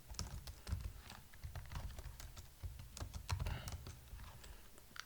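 Quick, steady typing on a computer keyboard while writing code, a dense run of soft key clicks at close range, continuing without pause and with no talking.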